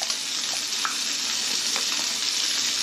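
Chili powder and ginger-garlic paste frying in hot oil, a steady, dense sizzle that holds evenly close up for the whole stretch, with a few faint stirring clicks and no voices.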